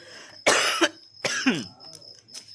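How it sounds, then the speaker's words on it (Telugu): Two harsh coughs, close and loud, the second trailing into a rough throaty rasp, with quieter breathy sounds after. "అందుకే నాకు దగ్గుగానే వస్తుంది"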